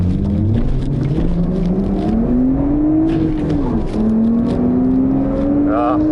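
RB20 engine in a drift car revving hard during a tyre test, a loud continuous rising and falling drone that climbs steadily in pitch, close and dominant with a voice underneath.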